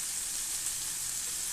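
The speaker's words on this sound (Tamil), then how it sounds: "இஞ்சி பூண்டு பேஸ்ட் போட்டு வதக்கிங்க." Ginger garlic paste sautés with onions in oil for an oily brinjal kuzhambu, a steady hissing sizzle like light rain, even and unbroken across the short stretch.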